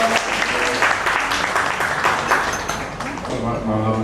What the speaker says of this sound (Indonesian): Boleh tepuk tangan dulu dong.